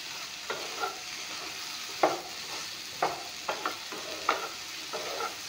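Salted okra sizzles in a frying pan while a spatula scrapes and stirs it in sharp, irregular strokes roughly every second over a steady frying hiss.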